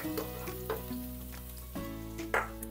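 Five garlic cloves sizzling as they brown in a frying pan, a quiet, steady crackle with occasional louder pops and light stirring scrapes, close by.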